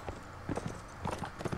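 Hooves of a horse clip-clop rapidly in a Mount and Blade Warband battle, a quick uneven run of beats at moderate level over a busy game background.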